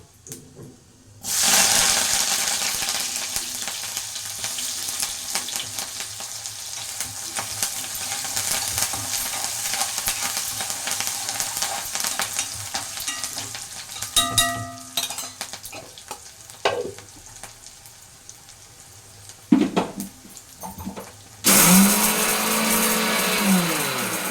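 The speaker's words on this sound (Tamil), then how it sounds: "இப்போ ரசம் தாளிக்கணும் இல்லைங்களா" Loud, steady sizzling of cumin and spices tempering in hot oil for rasam, continuing for a long stretch with occasional clinks and stirring, then a fresh burst of sizzle near the end.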